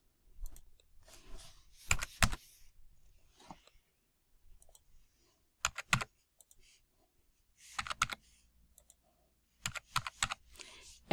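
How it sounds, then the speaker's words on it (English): Bursts of rapid key clicks from a computer keyboard, typed in short clusters separated by quiet pauses, close and fairly faint, with no talking. "You type text here."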